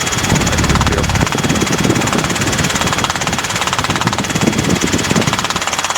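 Robinson R22 helicopter on a training flight, a steady loud engine drone with rotor thump running throughout, close and continuous, with a faint voice under it.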